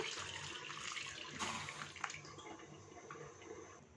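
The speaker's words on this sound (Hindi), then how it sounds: "पानी इसमें इतना शामिल करेंगे कि आलू बिल्कुल डिप हो जाएं।" Water runs from a tap into a pot holding two medium unpeeled potatoes, a steady splashing gush, soft and close, that flows throughout.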